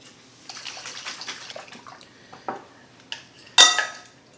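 Wet stirring and scraping of salad dressing in a bowl, with a few clinks of a utensil against the side and a sharper clatter near the end.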